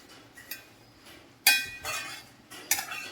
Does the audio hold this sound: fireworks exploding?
no